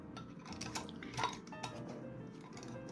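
Metal lids and screw rings go onto glass canning jars filled with sweet potatoes, producing close clinks, taps and light scraping clatter in an irregular sequence with no talking.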